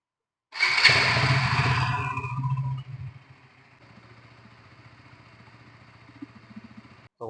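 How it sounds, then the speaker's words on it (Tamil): KTM Duke 200 motorcycle (2026 model) exhaust: a loud raw rev blip that falls away after about two seconds, then a lower, steady rumbling idle, close to the microphone. "ஸோ குயிக்கா வந்து நம்ம வண்டியோட எக்ஸாஸ்ட் நோட் கேட்டுருவோம்."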